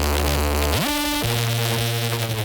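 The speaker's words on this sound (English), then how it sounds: "In the C part, we have this Reese bass." A thick, buzzing Reese bass synth from a melodic drum and bass drop, holding a loud detuned note that sweeps up in pitch, then drops back to a lower sustained tone.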